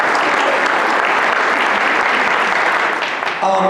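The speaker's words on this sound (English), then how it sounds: "kids, you better stop clapping" Dense, steady audience applause fills an honor society induction ceremony, loud and close throughout before tapering slightly near the end, with a faint voice barely present.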